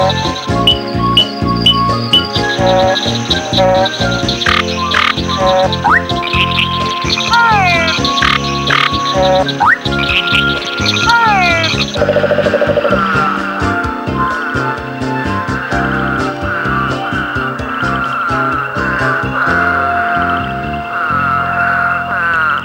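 A dense chorus of frogs croaks in rapid, overlapping pulses, loud and continuous, layered with trilling calls that shift partway through.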